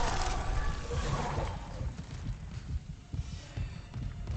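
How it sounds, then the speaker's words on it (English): Isaac's heartbeat in Dead Space (2023), a low, steady, throbbing pulse that thuds repeatedly under a layer of hissy ambient noise and fades slightly as it goes on. "Isaac, your heartbeat's driving me nuts"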